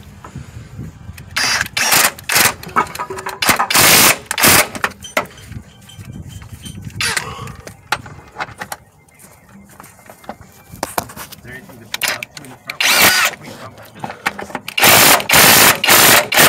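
A Kobalt 24V right angle impact wrench tightens a control arm on a 2007 Sonata suspension, giving several loud, close bursts of rapid hammering separated by pauses and scraping handling noise.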